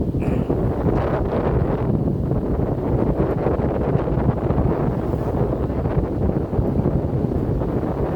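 Strong mountain wind buffets the microphone in a steady, loud roar, continuous throughout, with no voices.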